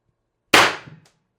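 A single sharp report from an X-68 Storm Trooper CO2-powered gun, one loud crack with a quick decaying tail and a faint rattle, alone in silence.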